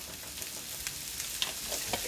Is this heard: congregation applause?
no